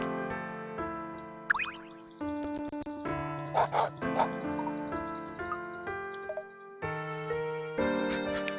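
A cartoon dog in the Nintendo DS puzzle game Professor Layton and the Diabolical Box gives a few short barks in the middle, over chiming tick-tock game music and jingly sound effects.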